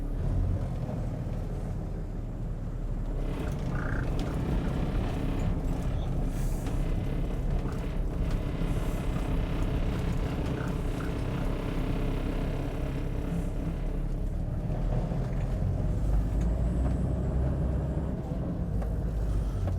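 A 1997 Toyota Land Cruiser Troopy with an inline-six diesel drives along, a steady low engine rumble and road drone that holds throughout at moderate level with no talk.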